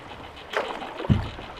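A canoe paddle digs into a low, shallow river with a quick splashing stroke, followed by a dull knock against the hull, close and brief.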